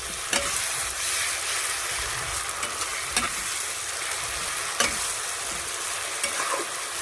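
Spice paste stirred into food frying in a pan, a steady sizzle with scraping stir strokes recurring every second or so, close and continuous with no talking.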